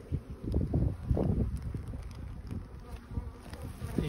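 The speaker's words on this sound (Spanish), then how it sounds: "Fijaos qué cantidad de abejas tenemos aquí, ¿vale? Son todas obreras" Many honeybee workers buzz around an open spring hive, a dense close swarm hum with irregular loud passes and some wind on the microphone.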